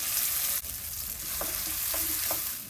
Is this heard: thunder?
no